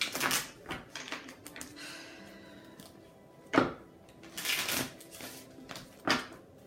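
Tarot cards are shuffled by hand in soft, irregular riffles and slides, close and quiet, with a few sharper snaps standing out.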